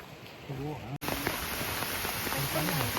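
Steady rain hisses on surfaces throughout, with a brief dropout, while a person talks over it.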